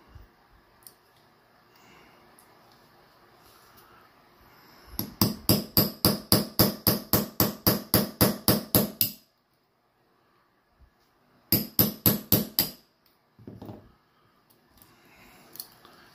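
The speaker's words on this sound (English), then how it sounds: "Now you heard that hammer hitting." A hammer taps a pin punch to size the steel bracelet of an Invicta Pro Diver Scuba 28456 watch. About sixteen close, sharp, evenly spaced metallic strikes come first, then a pause and a second short run of about five more.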